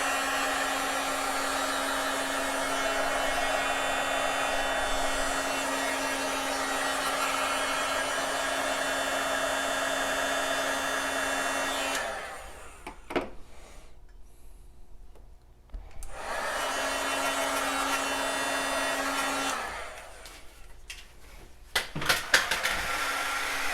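A heat embossing tool blows steadily while drying a foil craft project, cutting out for a few seconds mid-way before starting again; brief handling clatter near the end.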